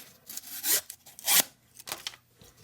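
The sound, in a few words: M390 steel pocket knife cutting cardboard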